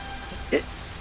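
Rain falls steadily as a soft continuous hiss, with one brief louder tonal blip midway through the short stretch and no clear speech.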